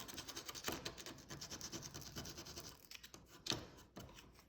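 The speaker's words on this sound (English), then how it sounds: "Oh, there's a tiny bit thing right there, so sand that down." A Game Boy shell part is sanded by hand, close and quiet, a series of short rasping scratches in an uneven back-and-forth rhythm with a sharper scrape near the end.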